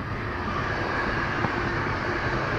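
A train rolls past in a rural Polish spring field setting, a steady broadband rumble holding at even loudness throughout, moderately near with no voices over it.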